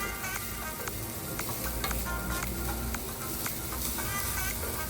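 A sweet filling for Malabar unnakkaya sizzles in a pan as sugar is stirred through, a dense steady crackle with regular light scrapes and clinks of the spoon, close and unvoiced.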